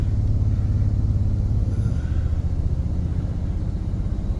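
A 1794 Limited Edition vehicle cruising on local neighborhood roads, heard from inside as a steady low engine rumble and road hum with no talking.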